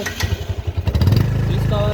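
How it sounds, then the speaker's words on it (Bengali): A second-hand Bajaj Discover 135 motorcycle engine starts up and settles into a loud, near, pulsing idle, with a throaty rhythmic thrum steadying after a few rough beats. "ইঞ্জিনের সাউন্ডও দেখেন"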